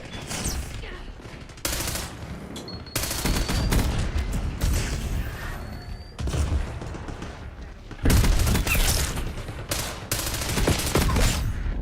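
Gunfire in Black Ops 6 comes in bursts of rapid automatic shots and heavy booms, loud and close, broken by short pauses, with game voice lines mixed in.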